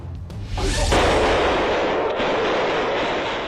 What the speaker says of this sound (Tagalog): Umalingaw-ngaw ang sunod-sunod na putok ng baril sa Dindaing District sa Bangkok, Thailand.